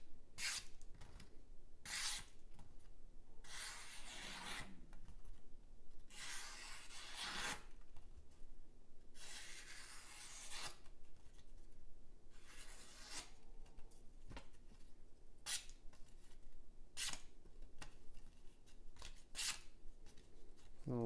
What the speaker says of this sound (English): I've cut enough of that piece of paper and made a big enough mess to know that the CMB Predator is mega hella slicey